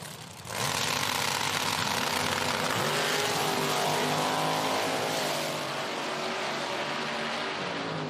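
A Corvette drag car launches hard at an IHRA Outlaw Nitro Series Pro Am event in Hebron, Ohio, its engine roaring loud and close, then holding a sustained, rising wail as it pulls away down the track.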